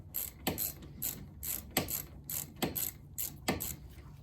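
A ratchet tightens a 12 mm front brake caliper bolt on a 2003 Chevy Malibu, giving close, crisp clicking bursts that repeat in a steady rhythm about every half second.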